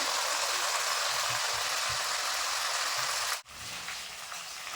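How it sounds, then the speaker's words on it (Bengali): Raw banana chips fry in hot oil with a steady, dense sizzle and bubbling that holds close and loud, briefly cutting out near the end before resuming. "এই চিপসগুলো কিন্তু একইভাবে ভেজে দেবো আমি।"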